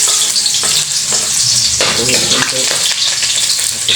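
Garlic frying in oil in a pan for corned beef with cabbage: a loud, close, continuous sizzle broken by spatula scrapes and stirring knocks, with no talking.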